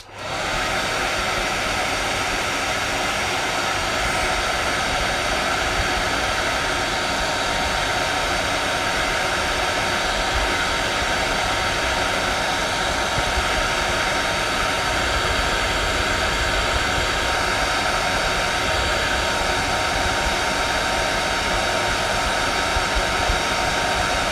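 A hair dryer blows steadily to dry a painting, a loud continuous close whoosh with no talk throughout.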